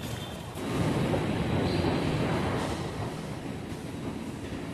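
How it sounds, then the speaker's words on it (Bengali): At Howrah's deep underground station on Kolkata's Green Line metro, a train rumbles past, building to a loud, broad roar with a faint squeal before easing off slightly. "চলো যাওয়া যাক হাওড়া মেট্রো স্টেশনে।"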